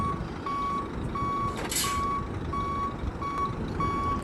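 A tourist bus on a college trip to Ooty backs up with a reversing alarm: regular single beeps about twice a second, moderately close. A short hiss of air bursts out midway under steady engine noise.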